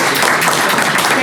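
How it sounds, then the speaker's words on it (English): Audience applause at a statewide opioid forum, a dense, loud wash of clapping from a large room filling the short moment without pause. "So give her a round of applause."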